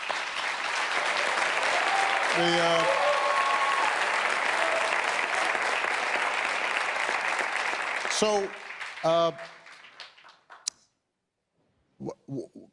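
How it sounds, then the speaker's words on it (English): An audience at the Copenhagen Democracy Summit applauds, with sustained, dense clapping for about eight seconds that then thins out and fades, followed by a voice speaking briefly near the end. "All those people clapping up there"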